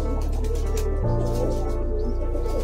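Madrasi high-flying pigeons coo inside a Kolkata breeding loft, their soft calls mixed with a steady low mechanical hum that shifts in pitch partway through.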